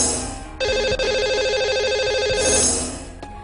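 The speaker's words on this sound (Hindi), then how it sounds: "तो लगाते हैं फोन।" Telephone ringback tone heard as a call is placed to a caller during a Hindi live phone-in program, a steady electronic ring pattern lasting a few seconds, close and clear with no talking over it.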